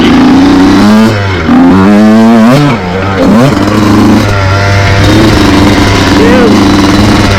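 A 2002 Honda CR125 two-stroke dirt bike revs up and down loudly and close by while ridden, the engine climbing and dropping through repeated throttle bursts over a continuous buzz.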